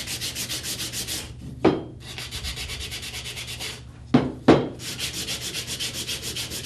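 Wood being sanded by hand with sandpaper, rhythmic rapid rubbing strokes close up, broken by a few brief pauses and soft knocks.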